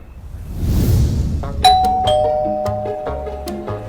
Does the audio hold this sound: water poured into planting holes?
no